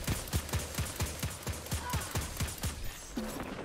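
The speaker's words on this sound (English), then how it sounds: "I will attempt to shoot the sword." Scout rifle firing repeatedly at an enemy sword in Destiny 2, a steady rhythm of about a dozen sharp, evenly spaced shots over game effects, ending with a brief tonal chime.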